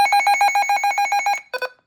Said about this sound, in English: We can do an alert test on this guy as well.